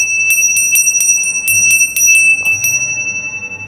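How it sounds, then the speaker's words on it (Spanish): Cathedral bells ring in a rapid series of bright, clear strikes, fairly loud and ringing out over faint background noise. "Si escuchas de fondo también hay campanas, la catedral,"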